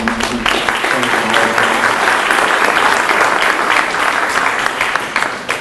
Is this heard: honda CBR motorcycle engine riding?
no